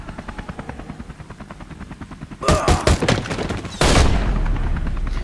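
Gunfire in the video game Beyond Two Souls, a burst of rapid shots and a heavy blast breaking in over the steady thumping rotor of a helicopter.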